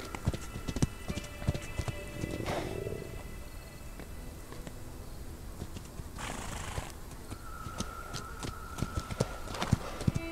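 Hooves of a ridden pony clip-clop steadily at close range, with scattered knocks and a brief whinny-like cry partway through, all fairly quiet and without speech.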